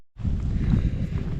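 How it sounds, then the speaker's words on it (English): Strong wind buffets the microphone at an exposed mountain campsite near Jim Thorpe, Pennsylvania, a loud, continuous low rumble that starts abruptly after a brief gap. "So it is quite windy up here."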